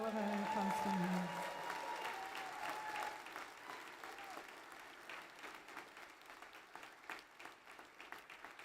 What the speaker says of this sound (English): another big round of applause for all of our customers.